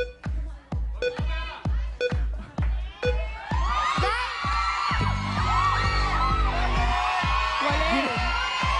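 Teammates at a game show first make a run of sharp, rhythmic bangs or claps, then break into loud, overlapping shouting, whooping and cheering from several people nearby.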